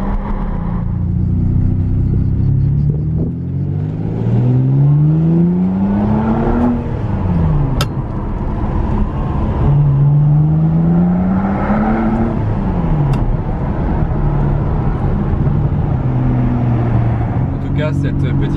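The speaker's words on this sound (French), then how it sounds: "C'est parti pour la montée de La Turbie en 612 Caglietti boîte mécanique." A Ferrari 612 Scaglietti with a manual gearbox climbs the uphill road to La Turbie. Its engine note rises and falls through repeated gear changes, loud and close, with someone talking over it.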